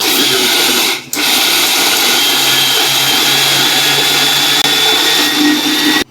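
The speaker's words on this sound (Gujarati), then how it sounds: "કરી દઈએ મિક્સર ચાલુ" A mixer grinder grinding rice runs loudly and steadily with a high whine, cutting out briefly near the start and then running on without a break.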